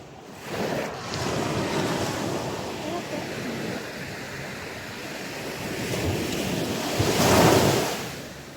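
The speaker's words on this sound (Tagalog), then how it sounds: "Grabe yung alon, ang lakas." Strong ocean waves surge at a Batangas beach in the Philippines, a continuous heavy roar of surf with wind buffeting the microphone, swelling louder near the end.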